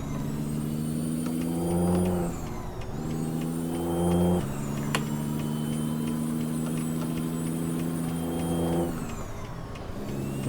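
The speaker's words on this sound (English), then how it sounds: "Swing our big truck over onto the freeway." A Ford 9000 truck in American Truck Simulator drones with a deep, steady engine hum. The tone dips and rises across a few gear changes, and one sharp click cuts through midway.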